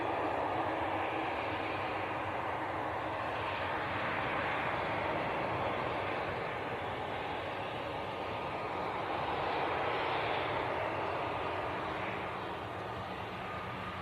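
A British Airways airliner taxis toward the camera at Leeds Bradford Airport, its steady jet engine roar broad and sustained, swelling slightly as it draws nearer, with no talk over it.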